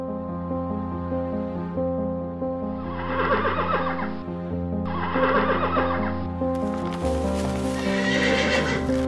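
An animated folk-tale horse whinnies twice in loud, shaky neighs over a steady backdrop, then hooves clip-clop in a quick rhythm toward the end, with no talk.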